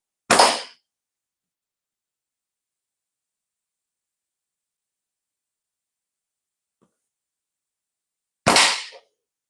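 Two sharp, isolated air gun shots ring out about eight seconds apart, each a brief close crack with a short tail, near silence between them.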